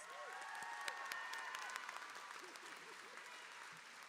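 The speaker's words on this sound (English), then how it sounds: "Let's give them a round of applause." An audience at a high school graduation ceremony gives a round of applause, with steady, dense clapping throughout and a few voices calling out.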